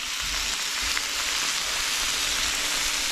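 Bacon fries in a pan on a wood stove, giving a steady, close crackling sizzle throughout with no one talking.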